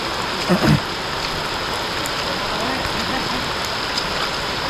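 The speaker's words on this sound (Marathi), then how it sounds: "आता जोराचा एकदम पाऊस चालू झाला" Heavy rain pours down in a dense, steady hiss during a sudden downpour in rural Konkan, loud and constant, with a brief voice near the start.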